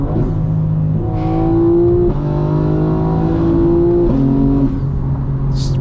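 A 2025 BMW M4 Competition driven hard in daytime, its engine revving loud and close through quick successive upshifts, each gear change cutting the pitch before it climbs again.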